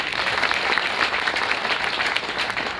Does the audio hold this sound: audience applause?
yes